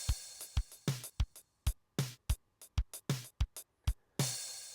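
A drum groove opens on a crisp snare hit, then sharp percussive strikes repeat in an uneven, syncopated pattern with silent gaps between them.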